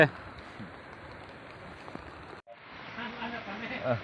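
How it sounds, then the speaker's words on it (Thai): Rain falls steadily in the morning at a fishing spot, giving an even hiss of drops on surfaces that drops out for a moment and then comes back slightly stronger. "ฝนตกเลยครับตอนนี้"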